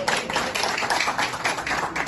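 An audience at a press gathering applauds in a dense, continuous burst of many hands clapping at once, fairly loud and close, lasting the whole short stretch with no speech over it.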